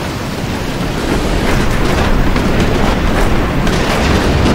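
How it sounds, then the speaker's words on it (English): Hail pounds down during a storm while storm chasers watch. The dense, continuous roar of hits on surfaces is loud and steady, with no talk. "Here comes the hail!"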